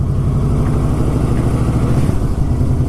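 Yamaha Royal Star Deluxe motorcycle engine giving a steady, loud low rumble close by, with no talking over it.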